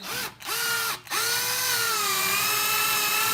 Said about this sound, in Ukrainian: шурупи в руки, шуруповерт на мінімальні оберти